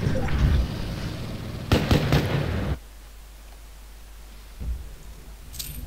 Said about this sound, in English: And he's dying to multiple cannon fire.